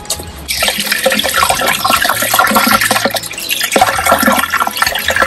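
Water and waste gush steadily from a campervan toilet cassette as its red lever is opened, a loud continuous pouring with splashing and gurgles, close by and without talk.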